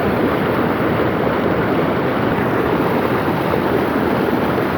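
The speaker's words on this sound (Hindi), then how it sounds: "दोबारा पानी डाल के चेक किया जा रहा है।" Steady, dense rush of water poured through a gold washing machine at a gold mine in Pakistan, running continuously and loudly throughout, a broad churning wash with no pauses or voices.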